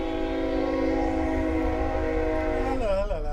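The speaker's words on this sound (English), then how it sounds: "And there's the train." A passing train sounds its horn in a long, loud, steady chord that holds for close to three seconds, then wavers and bends near the end over continuous rumbling.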